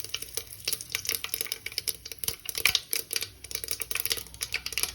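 Mustard seeds and curry leaves crackle and spatter in hot oil for a rasam tempering, with dense irregular pops and sizzles, close and steady throughout.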